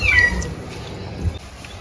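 A mother cat upset after her kittens were taken away gives a low growl and a meow, loudest at the start and again briefly near the end.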